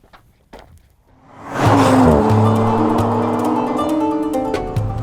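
A 2020 Audi RS4 comes in after a quiet start and swells to a loud, sustained engine roar with a rising gear note as it drives hard along a road, staying strong to the end with no talk.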